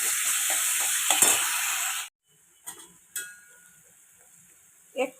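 Spiced food is stirred and scraped in a hot frying pan with a sizzling hiss for about two seconds, followed by quieter silence broken by a few faint clinks and taps of a utensil.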